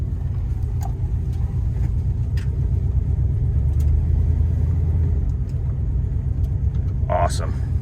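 A 1973 Plymouth Satellite driving on the road, a heavy low engine rumble from inside the car, steady and loud, with brief voices and a clatter near the end.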